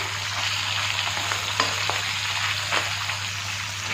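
Steady frying in a pan, likely brinjal, besan or potato fritters, with a dense continuous crackle and a few sharper pops standing out; close and fairly loud, with no voices.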